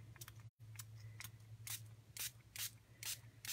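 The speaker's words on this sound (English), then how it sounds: "So I'm going to just spray this." Rubbing alcohol from a spray bottle is misted onto a paper craft project painted with shimmer paint, giving a series of short, sharp, quiet hissing bursts in an otherwise hushed room.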